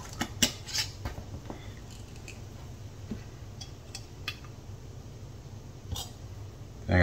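Metal canning jar lids for pickled jalapeños clink and rattle in a few sharp, scattered taps close by, mostly in the first second, then sparse light clicks over a low steady room hum.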